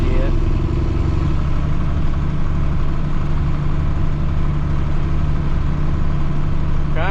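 A John Deere 4640 tractor engine runs with a heavy, steady low rumble while being shifted through gears in the mud, and a brief whine rises near the start and again near the end.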